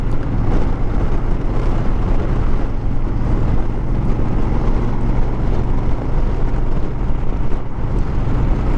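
A Honda Fury motorcycle rides through twisty roads with a steady, loud engine drone mixed with heavy wind rush across the microphone, continuous and without voices.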